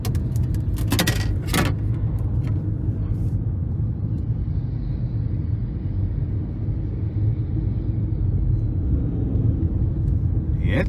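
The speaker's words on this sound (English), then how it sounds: "And that just was a bit more torquey as I put my foot into the accelerator." A 2023 Ford Maverick Hybrid XL with a 2.5-liter naturally aspirated hybrid engine accelerates in sport mode, heard from inside the cabin as a steady low engine drone and road rumble, with a few light clicks near the start.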